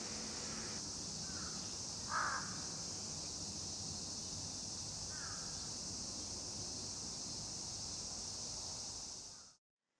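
Large-billed crows by a forest stream in Nagano, Japan, give a few faint, distant caws spaced apart over a steady hiss of flowing water and insects.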